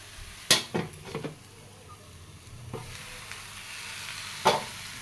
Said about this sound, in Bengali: তরকারি খুব সুন্দর মতো ভাজা হয়ে গেছে